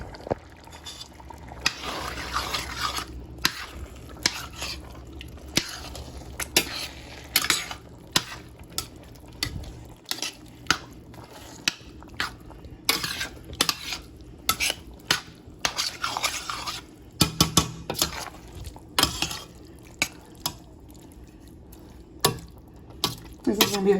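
Mushrooms are added and stirred into a pot of spaghetti sauce: a utensil scrapes and clinks irregularly against the pan, with soft wet stirring between the knocks and occasional talk over the cooking.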